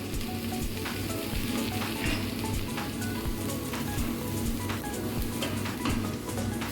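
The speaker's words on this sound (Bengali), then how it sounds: "প্রথমে আমরা পটের মধ্যে সয়াবিন তেল দিয়েছি, তারপর আমরা রসুন বাটা আদা বাটা দিয়ে দেবো।" Garlic and ginger paste fries in hot soybean oil in a pot for a papaya and beef dish, giving off a loud, dense, continuous sizzle with crackling pops throughout.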